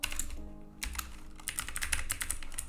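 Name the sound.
typing HTML code on a computer keyboard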